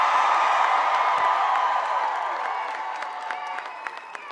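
Large rally crowd applauding and cheering in Virginia, a dense sustained wash of clapping with scattered whoops that slowly eases off over several seconds.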